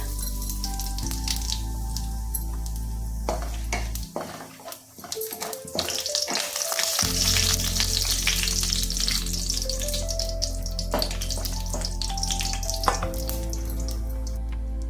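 Spices fry in hot oil in a kadai for an eggplant masala dish, producing a loud, steady, close sizzle with a brief dip and a low hum beneath it.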